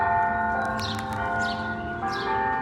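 A church bell rings the noon hour in a town square. Sustained, resonant tolling with overlapping strikes and long ringing overtones sounds fairly loud and continuous, with no talking.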